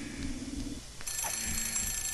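A telephone rings in the video game The Suffering, with an electronic ring starting about midway, fairly loud and sustained over a low game ambience, with no talking.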